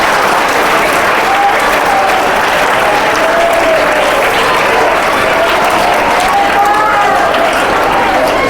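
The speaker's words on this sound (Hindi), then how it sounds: "जोरदार तालियां इसके लिए भाई।" An indoor audience claps loudly and steadily for a boy, a dense, sustained wash of applause that runs unbroken from start to finish, with a few voices faintly audible underneath.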